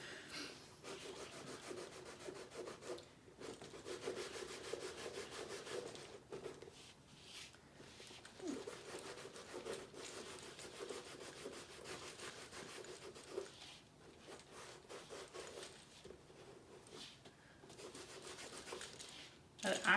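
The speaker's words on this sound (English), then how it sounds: "I actually brought a little rag here with water on it to see if I could remove these dirt marks" A wet rag rubs dirt marks off a bag in a steady close scrubbing swish that pauses briefly a few times, with faint talk underneath.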